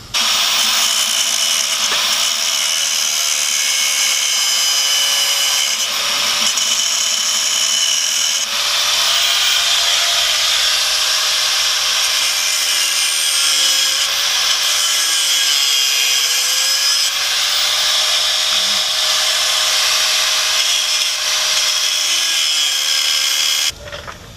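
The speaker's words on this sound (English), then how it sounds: "then we're gonna cut the bracket, the cutoff wheel." A cutoff wheel grinds through a bracket on a 2017 Ford F350 during a lift kit install, a loud, continuous high-pitched whine that wavers slightly in pitch for over twenty seconds with no talking.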